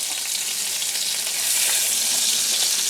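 Meatballs frying in a pan for meatballs and gravy, a loud, steady, close sizzle of hot fat crackling without pause and swelling slightly midway.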